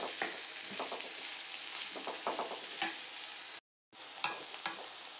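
Chopped ivy gourd (dondakaya) fries in a pan with masala and is stirred steadily. A constant sizzle runs throughout with repeated scraping stir strokes, close up and without speech. The sound drops out briefly near the end.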